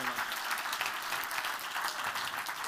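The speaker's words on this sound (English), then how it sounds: "Give them both a big round of applause." A theatre audience applauds warmly after a pickpocketing demonstration, with dense, steady clapping that holds for the whole stretch before easing slightly.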